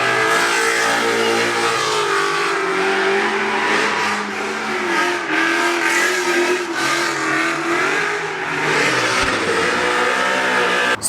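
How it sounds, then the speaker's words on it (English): A drift car's engine revs hard and loud at a Formula Drift event, with a sustained roaring tone that rises and falls through repeated throttle blips, close and dominating. "That's the loudest car in the world, too."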